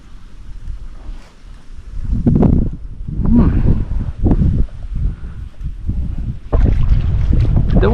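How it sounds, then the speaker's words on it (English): Gusty wind over a mountain top lake, rumbling microphone buffeting that rises and falls in strong surges, loud and close, with faint water and boat noise underneath. "The wind just totally changed."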